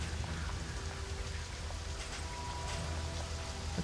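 Acid rain in the video game Darkest Dungeon II, a continuous hiss of falling rain over a low rumbling ambience and faint musical tones, steady and fairly loud throughout.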